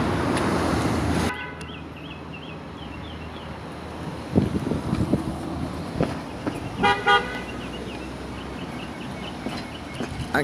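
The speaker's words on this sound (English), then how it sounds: "And cars are to be slowing down right here along Hagley Park Road." Road traffic along Hagley Park Road during a roadwork project, with wind buffeting the microphone, a steady traffic rumble and a few short car horn toots in the second half, moderately close.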